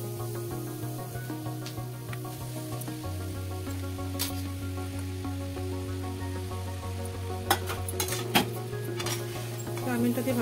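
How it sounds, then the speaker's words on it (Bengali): Chow mein noodles stir-fry with egg and vegetables in a pan, a soft steady sizzle with occasional light scrapes and clinks, under a steady musical hum and someone talking. "চাউমিনটা দিয়ে ভালো করে ভেজে নেবো।"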